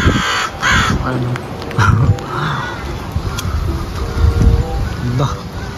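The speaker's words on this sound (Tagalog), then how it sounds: "Daming uwak dito." Several crows caw repeatedly at moderate distance amid strong wind and rain at Smoky Lake, Alberta, with a person talking intermittently.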